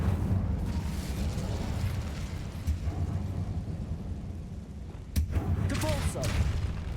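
A fire spell blast in a Harry Potter video game, with a rumbling low whoosh that builds and then a sharp burst followed by crackling bright flares and a lingering roar.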